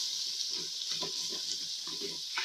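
Chopped tomatoes stirred in a pan as they cook down into a paste for a mutton vegetable curry, giving a steady soft sizzle with faint scraping strokes of the spoon throughout.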